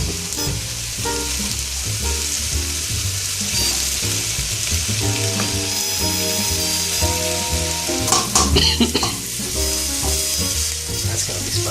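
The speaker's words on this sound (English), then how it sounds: "In go the mushrooms. They gotta sweat out for a bit." Mushrooms sizzle and fry in a hot frying pan as they sweat, with a loud, steady crackle and occasional stirring scrapes, close up and without talk.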